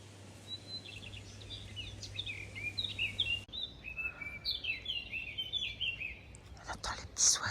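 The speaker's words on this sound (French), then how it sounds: "On entend les petits oiseaux." Small birds chirp and trill at dawn during a holiday without electricity, a steady chorus of high tweets from several birds at moderate distance, with a faint whisper-like murmur and a low hum early on.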